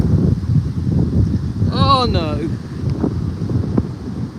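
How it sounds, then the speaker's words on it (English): Strong wind gusting outdoors during a walk, a steady loud rushing and buffeting across the clip, with a voice speaking over it. "Whoa, it's windy."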